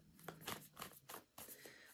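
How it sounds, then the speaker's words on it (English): Tarot cards being shuffled by hand, a series of close, crisp riffling and slapping bursts in an uneven rhythm with brief gaps, with no talking. "Let me give this a good shuffle."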